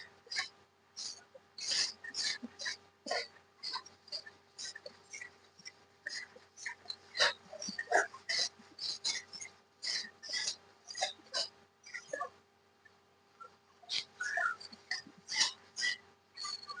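A thick, sugary mango barfi mixture is stirred continuously in a pan, making a steady run of rhythmic scraping strokes against the metal. The strokes are close, regular and sound alone, with no talking.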